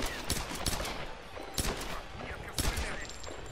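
Bursts of gunfire crack out in quick clusters, several sharp shots repeating at uneven intervals, loud and close, from combat in the video game Tomb Raider.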